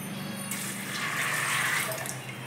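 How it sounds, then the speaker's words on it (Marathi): Water pours from a vessel onto chopped cauliflower, potatoes and peas in a home kitchen, a soft splashing gush that swells and then continues steadily. "तर त्याच्यात मी हे पाणी टाकते"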